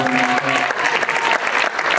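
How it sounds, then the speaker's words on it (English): A room of guests at a Delta Sigma Theta Sorority alumnae chapter event gives a round of applause, loud, dense clapping from many hands that carries on steadily, with a faint tonal sound beneath it early on. "We have to give them a round of applause."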